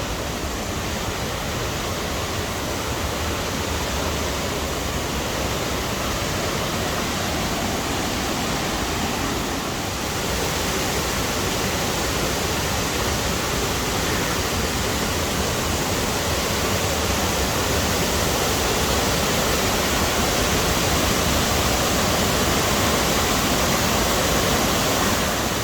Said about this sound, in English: Over here we have what they call the waterfall of the blue wave.